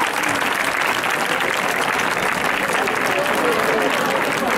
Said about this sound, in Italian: Un applauso veramente forte al personale ATA